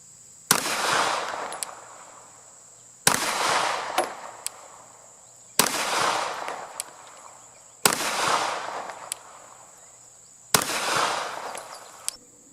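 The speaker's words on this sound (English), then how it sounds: "I'm going to take 5 shots, 15 yards, this target." Five pistol shots from a Glock fitted with an Apex trigger kit, fired at a target 15 yards off, spaced two to three seconds apart, each a sharp report with a decaying echo and faint clinks between, no talk.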